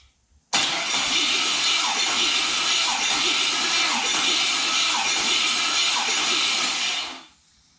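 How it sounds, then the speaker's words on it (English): A V8 LS engine cranks over steadily on its starter during a compression test, with a stronger battery fitted; a loud, even whirring churn runs for about seven seconds with regular rhythmic pulses, then cuts off abruptly. "I'm going to get a battery that's a little stronger and try cranking it again"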